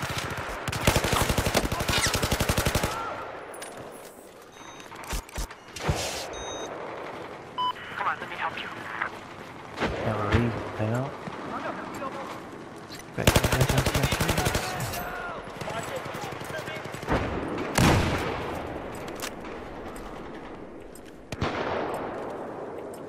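MPX submachine gun fire in Battlefield 4: sharp bursts of rapid automatic shots in several clusters, loud and close, with other in-game gunfire and effects between, and a voice talking over the action.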